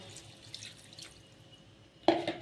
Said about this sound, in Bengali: তো জলটাও আমি দিয়ে দিলাম।